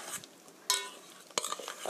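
Spoon stirring zucchini pancake batter in a bowl, faint close scrapes and clinks with a couple of sharper clatters, no talk.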